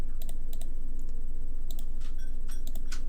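Computer mouse clicking during 3D model work, a quick scatter of light, close clicks in short pairs and singles over a faint background hum.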